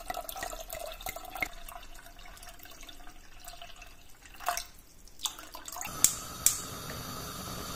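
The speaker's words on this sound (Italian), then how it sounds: "Pesiamo anche lo zucchero, 300 grammi, e aggiungiamo l'acqua" Water is added to a pot holding lemon peels and sugar, with faint dripping and trickling followed by a louder pour near the end, heard alone at close range.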